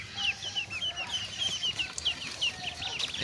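Small black desi ducklings give thin, high peeping calls in quick repeated bursts, close by, over soft outdoor background noise.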